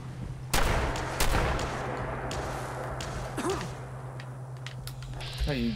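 A riot shotgun fires in a VR sandbox game, two loud booming blasts early on followed by quieter scattered shots and clatter over a steady low hum.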